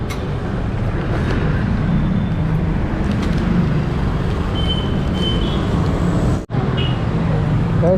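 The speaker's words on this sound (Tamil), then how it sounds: "ஏன்னா ரொம்ப டிராஃபிக் ஆகிடுச்சுங்க" Heavy road traffic heard from a delivery rider's motorbike, a loud continuous roar of engines and tyres with a few faint horn tones and one brief dropout.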